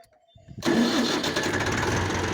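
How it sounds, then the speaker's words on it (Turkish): A Massey Ferguson 285 tractor's heavy diesel engine cranks briefly and catches, settling into a loud, rough, rumbling idle up close. "yavaş yavaş traktörümüzü bir çalıştıralım. Sesini duyun."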